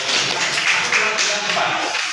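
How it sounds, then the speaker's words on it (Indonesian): A class applauds a student group, a brief burst of dense, moderately loud clapping from many hands in a classroom, with voices mixed in. "Tepuk tangan untuk kelompok."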